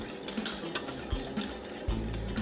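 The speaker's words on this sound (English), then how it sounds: "all we've got to do is just keep whisking this gently" Eggs being whisked gently in a bowl for scrambled eggs, soft scraping and light clinks of the whisk against the bowl recurring at close range with low kitchen background.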